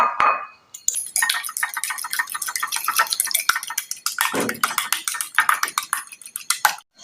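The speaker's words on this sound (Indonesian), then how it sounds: "Kocok dulu telurnya." Egg being whisked in a bowl for Arab kubba batata, a rapid, steady run of close, bright clinks of utensil against the bowl lasting several seconds with a short pause near the start.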